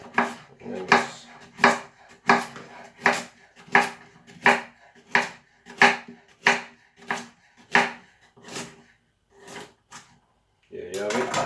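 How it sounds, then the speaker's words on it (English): A knife chops fruit on a cutting board for juice, giving about fifteen sharp, evenly spaced knocks close up, followed by a brief clatter at the end. "Now just cut off the bottom, cut off the top,"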